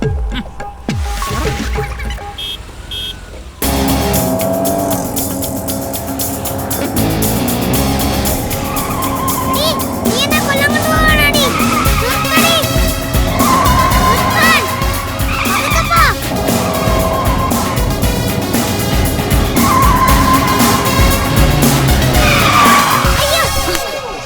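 Tires screech loudly as a car brakes hard and skids, a long continuous squeal over engine roar that starts abruptly after a short, quieter opening.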